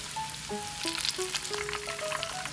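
Breaded stuffed okra frying in hot oil, a steady crackling sizzle throughout, fairly quiet and close, with faint tonal music running underneath.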